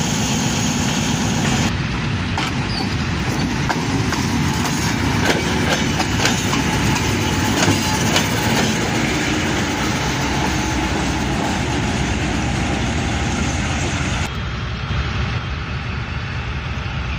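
A refurbished ZCU-30 6317 locomotive runs at Lahore junction with a loud, steady diesel rumble and some rhythmic clattering. The sound continues throughout with no talk and eases slightly near the end.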